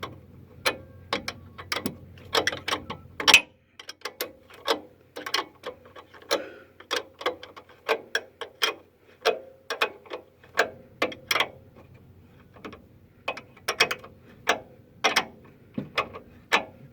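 A nut being spun by hand onto the shaft of a shock absorber from a 2004 Nissan Navara D22, giving a series of sharp metallic ticks and clicks at an uneven, ratchet-like rhythm, close and clear with no talking.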